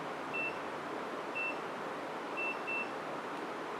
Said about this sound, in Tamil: பீப் முடிஞ்சிருச்சு.